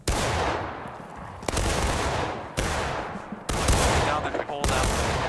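Rifle volleys crack out in a video game battle, several loud sharp bursts of gunfire at irregular intervals, each trailing into a rumbling echo, with no talk over them.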